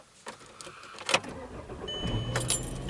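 A campervan engine starts on a frosty cold morning in Morganton, with a clear crank and catch around the one-second mark, then settles into a steady, close idle.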